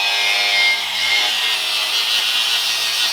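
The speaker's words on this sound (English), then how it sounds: "and we have the angle grinder." An angle grinder cuts into the rear crash bar of a crashed Ferrari 812 Superfast, a steady, loud, high-pitched grinding whine held close for a few seconds with no one talking.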